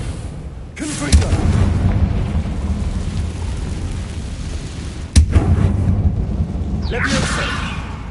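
Two loud fiery blasts from a Confringo fire spell in Hogwarts Legacy, each a sharp crack followed by a rumbling burn, with a whooshing streak trailing near the end over steady game ambience.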